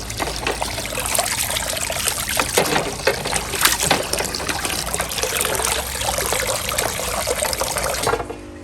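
Aquarium filter media rinsed under running water for an arowana tank, giving a steady close trickle and splash that runs without pause and cuts off just before the end, with no talking.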